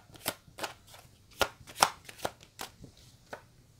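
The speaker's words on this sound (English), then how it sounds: "Let me pull some cards now." Tarot cards are shuffled and pulled one by one, giving a series of close, crisp riffles, slaps and flicks at an uneven rhythm, with no talking.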